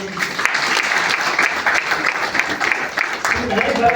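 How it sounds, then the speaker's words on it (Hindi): An audience at an agricultural science centre event in Gumla, Jharkhand breaks into dense, sustained clapping that holds steady for several seconds, with a voice faintly audible underneath. "हम लोग जोरदार ताली बजा करके"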